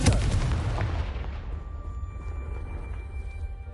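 In Hogwarts Legacy, a Confringo blasting spell explodes with a loud, deep boom at the start, then its rumbling tail slowly fades over a few seconds under faint ringing game tones.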